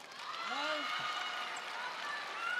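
A crowd at the 2017 Qatar Open men's table tennis final between Ma Long and Fan Zhendong cheers in a steady, sustained roar while a commentator speaks over it.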